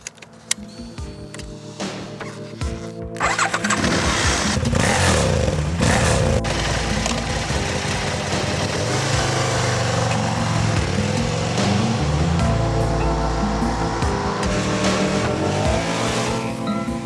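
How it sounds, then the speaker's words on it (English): A motorcycle ridden along the road, its engine idling at first and then rising into a loud, continuous, changing drone with shifting pitch as it accelerates and holds speed, close up with no talking. "Riding this bike is a pleasure."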